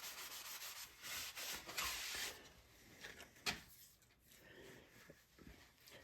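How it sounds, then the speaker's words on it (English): Rag rubbing tung oil finish over a small wooden box, a soft broadband swishing in repeated strokes with a few light knocks, fairly quiet and close with no talk. "With a tung oil finish, you will want to give it several coats and keep wiping it down between coats."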